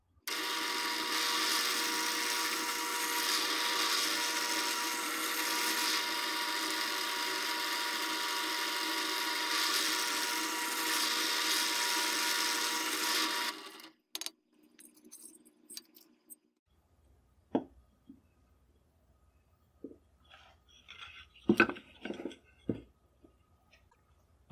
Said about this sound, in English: I'll drill them out.